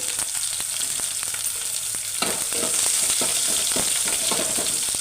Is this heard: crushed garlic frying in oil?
yes